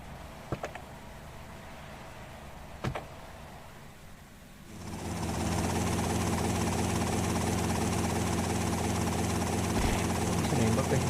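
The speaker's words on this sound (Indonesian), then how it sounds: "Helikopter lagi guys" Helicopter in the video game GTA Vice City Stories, a loud steady rotor and engine drone that swells in after a few quiet seconds with a couple of sharp clicks, then holds constant to the end.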